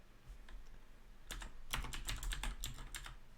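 Typing a command on a computer keyboard in a terminal, a burst of quick, close key clicks with short pauses between keystrokes and no talking.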